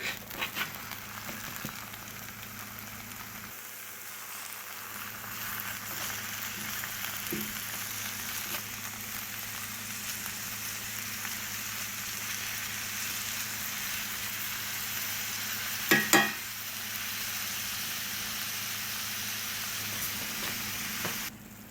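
Moose meat added to a hot pan with green onions in a cabin kitchen, sizzling and frying steadily up close, with occasional stirring scrapes and one brief clatter near the end.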